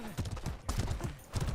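Horse hooves clip-clopping in the medieval combat game Mordhau, a quick run of soft, even hoofbeats in short bursts, fairly quiet and close.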